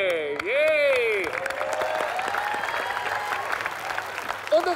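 A studio audience on a TV dating show claps in a steady burst of applause. It opens with a loud cheering whoop from a voice.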